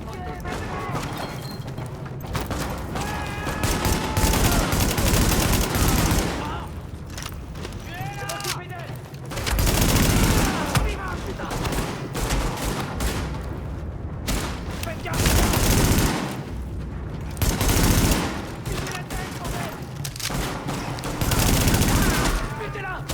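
Repeated bursts of gunfire hit an escort in the video game The Division, loud volleys recurring across the scene amid explosions and mechanical clatter, with voices heard over the action.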